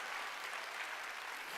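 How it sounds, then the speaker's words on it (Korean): A church congregation claps together in steady, dense applause that fills the room, moderately distant and even throughout. "믿어 박수로 하나님께 영광 돌려"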